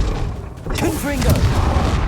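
A Confringo fire spell from the video game Hogwarts Legacy bursting with a loud boom after a brief dip, followed by rumbling combat noise with a voice calling out over it.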